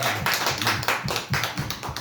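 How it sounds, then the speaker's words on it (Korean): A church congregation at a Korean Wednesday worship service claps together to welcome two newcomers. The hands strike in loud, rhythmic unison at a quick, even pulse of roughly four beats per second, with no talking. "우리 또 이 두 분 이렇게 새로 오시니까 박수 한번 쳐주시기 바랍니다."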